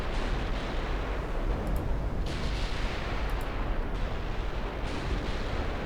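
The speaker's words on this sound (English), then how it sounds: "We're actually getting 16-inch hits from the battleships on that poor cruiser." Battleship 16-inch guns firing in the naval game Ultimate Admiral Dreadnoughts, a continuous rumbling barrage of heavy booms with several sharper blasts landing every second or so, loud and dense throughout.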